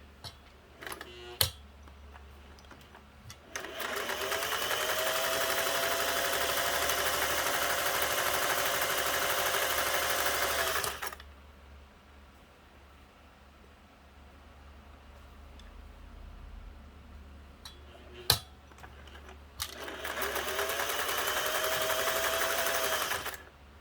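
A Singer 401a sewing machine runs in two long, steady stretches of close, even mechanical whirring, with a quiet pause between them and a few clicks and knocks as it starts and stops.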